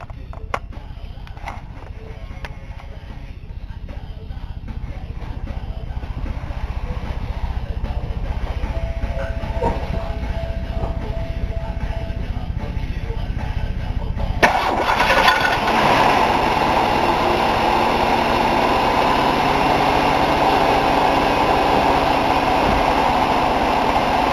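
A 1997 Buick LeSabre after a belt and tensioner repair, with a long rumbling low hum that shifts about midway into a fuller, brighter running engine note, steady and fairly close, with no talk.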